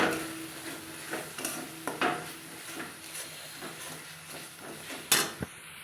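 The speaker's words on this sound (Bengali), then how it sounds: "যতক্ষণ না মশলাটা তেল ছাড়ে না আসছে ততক্ষণ আমি ভাজতেই থাকবো" Spice paste of turmeric, cumin and ground masala fries in oil under a steady soft sizzle, punctuated by repeated scraping stirs and utensil clinks against the pan, with a sharper knock near the end.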